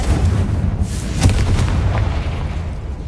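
Confringo blast spell cast in Hogwarts Legacy: a dense, rumbling explosive burst with a sharp crack near the middle, heavy low booming sustained throughout, no talk.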